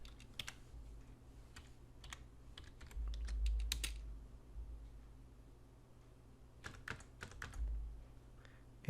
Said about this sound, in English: now we will just type in